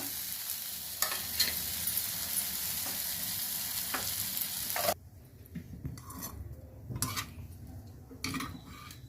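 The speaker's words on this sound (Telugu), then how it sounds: "టమాటా, పొటల్సు, ఉల్లిపాయలు, పచ్చిమిర్చి అన్నీ బాగా వేగిపోయి, అంటే ఉడికిపోయి ఆయిల్లో." Tomato, potol, onion and green chilli frying in oil for a chutney, a steady close sizzle for the first half that drops to a quieter hiss with occasional stirring and clinks of a utensil against the pan.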